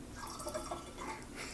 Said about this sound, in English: just go ahead and gradually pour in our sweetened mixture